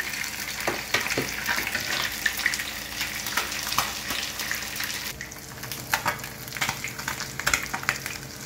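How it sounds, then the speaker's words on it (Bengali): Fish frying in hot oil in a pan, a steady dense sizzle with irregular crackles and pops throughout, close and moderately loud, with faint clinks of the pieces being lifted out; no talking. "মাছগুলো ভাজা হয়ে গেছে, এবার তুলে নিচ্ছি এক এক করে মাছগুলো"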